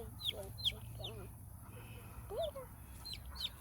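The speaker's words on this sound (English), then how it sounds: "Yeah, chicken and a baby chicken." Chickens with a baby chick in a Florida backyard flock give soft clucks and high peeps scattered over a low steady background hum, faint and fairly close.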